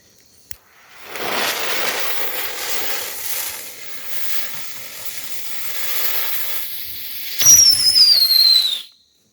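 A small homemade whistle rocket firework hisses and sizzles as it burns, then launches with a rising shrill whistle that fades off, loud and close.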